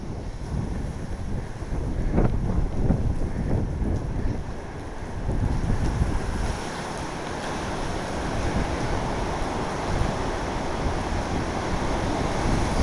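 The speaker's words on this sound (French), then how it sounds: "sous un rideau de pluie. Ça fouette de tous les côtés, moi-même je suis trempé." Strong cyclone wind from Cyclone Gamede buffets the microphone in heavy roaring gusts, mixed with the dense hiss of pouring rain, loud and continuous with no voices.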